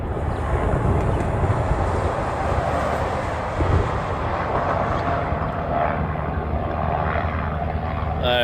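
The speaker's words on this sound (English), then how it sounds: "Asia Pacific is also taxiing out." An airliner taxiing out for departure on the Guam flight, a sustained engine rumble and whine with uneven swells, heard from a moderate distance in the open air, without speech.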